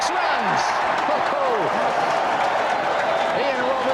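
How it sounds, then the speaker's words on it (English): Cricket crowd at Carisbrook cheering and applauding a six during the 1992 World Cup match between India and New Zealand, a broad, steady roar of distant voices and clapping that fills the whole stretch without letup. "the crowd love it here at Carisbrook"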